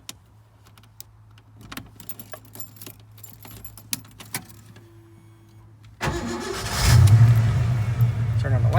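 A stick-shift 1991 Ford Bronco with an idle problem: keys jangle and rattle in the ignition, then the engine cranks, catches and roars up into a loud rev before settling to a steady, close, rumbling idle.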